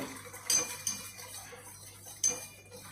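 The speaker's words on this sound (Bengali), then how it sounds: "মিডিয়াম লো হিটে ক্যারামিলগুলা আস্তে আস্তে নাড়ব" A utensil stirs caramel in a pan on a stove over medium-low heat; two distinct metallic clinks stand out against quiet scraping, close and fairly faint.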